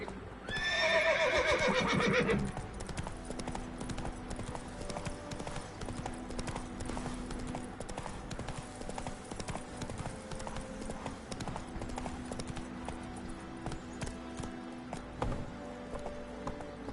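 In The Witcher 3 on PS5, a horse whinnies loudly at the start, then gallops in a steady, continuous clip-clop of hoofbeats that carries on to the end.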